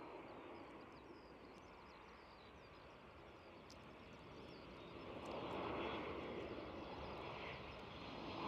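A KLM airliner inbound to Edinburgh Airport, its jet engine roar a broad distant rumble that swells gradually in loudness as the aircraft approaches.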